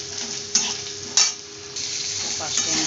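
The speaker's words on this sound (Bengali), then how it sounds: "আমি অল্প করে পাঁচফোড়ন দিয়ে দেবো পরিমাণ মতো। পাঁচফোড়নটা ভেজে নেব।" Panch phoron spices frying in oil alongside potatoes make a steady sizzle close by, broken by three sharp spatula strikes against the pan.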